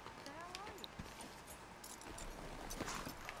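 Horse hooves clip-clop in Red Dead Redemption 2 at a camp, a steady patter of soft hoofbeats mixed into a dense bed of game ambience.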